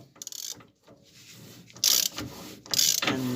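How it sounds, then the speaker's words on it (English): A small ratchet turns an oversized 46mm socket on the upper ball joint of an MG TF car, clicking in a few short close bursts with pauses between strokes. "small ratchet I'm putting on."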